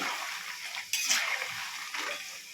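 Nimki frying in oil in a pan being stirred gently, soft scraping and light clinks of the utensil against the pan over a low sizzle, with a couple of sharper knocks.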